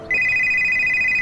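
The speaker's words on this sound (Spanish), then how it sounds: "Mi teléfono está sonando." A cartoon telephone rings in a loud, steady electronic trill that starts abruptly and holds for over a second, alone with no talk.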